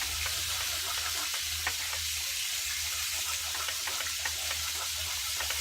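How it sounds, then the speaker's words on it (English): Gravy base made from a McCormick packet bubbles and sizzles in a cast iron pan while being stirred, a steady hiss with soft scraping strokes, close up and with no talk. "Give that a stir up."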